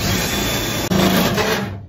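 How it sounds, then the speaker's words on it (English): A power drill bores a hole into a truck's body near the wheel well while an aluminum bed platform is fitted, a loud continuous grinding whir close by with a brief break midway. "So the hardest part here is just holding it there and drilling a hole through the hole you already drilled"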